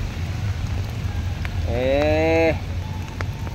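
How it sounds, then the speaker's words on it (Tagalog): Steady rain hisses over a grassy fishing spot, a soft even wash of noise that continues throughout while a person speaks briefly over it. "Yan lang, umuulan."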